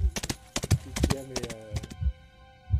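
Panicking horses stamp with a run of sharp hoof clip-clops, and a high, wavering whinny rises briefly in the middle before the hooves thud on alone.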